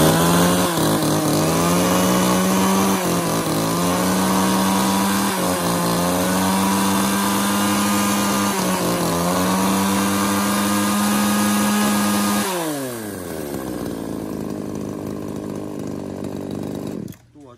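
A Japanese-made chainsaw engine idles steadily and loud up close, then revs and winds down near the end before cutting out.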